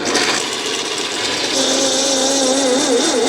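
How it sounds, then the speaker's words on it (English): A countersink bit cuts into screw holes in a wooden radio case, a steady whirring grind that holds for a few seconds without a break. "I'll countersink the new holes."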